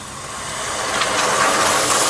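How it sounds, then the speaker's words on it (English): Water splashed into hot ghee over chopped cabbage gives a loud, steady sizzle that swells and holds as it crackles in the pot. "That's the sound of the water fighting with the ghee."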